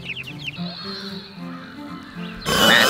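Farm pigs grunting and oinking in short nasal bursts on a homestead with chickens nearby, fairly close, with bird calls at the start and a sudden burst of broadband noise near the end.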